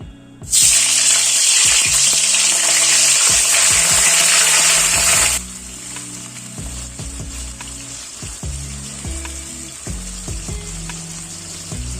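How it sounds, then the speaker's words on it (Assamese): Paneer pieces fry in hot refined oil in a kadai, giving a loud, dense sizzle that bursts in at once and then drops to a softer steady crackle, with light clinks and stirring underneath. "এতিয়া মই পনীৰখিনি অলপ ভাজি উঠাই থম"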